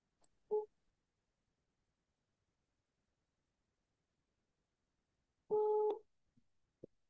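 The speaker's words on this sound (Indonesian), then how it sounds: "Ini tak telepon nggak diangkat juga." A telephone call rings out unanswered: one short ringback tone, a long silence, then a second tone of about half a second, each a clean humming beep, faint and alone.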